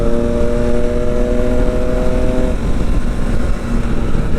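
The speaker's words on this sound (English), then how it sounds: "that Triumph is super duper loud" A loud Triumph motorcycle engine runs close by, with a steady, throaty rumble. A low harmonic drone holds for the first couple of seconds and then breaks into a rougher, grumbling tone.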